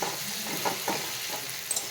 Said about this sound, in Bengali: পেঁয়াজটা ভাজা ভাজা হলেই ম্যারিনেট করা চিকেনটা এর মধ্যে দিয়ে দেবো